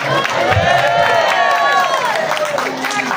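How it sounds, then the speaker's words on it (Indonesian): A large crowd at a religious gathering claps hands together in a dense, steady wash of applause, loud and close, mixed with crowd murmur and a voice over it. "Ini sampean tepuk tangan ini Bu"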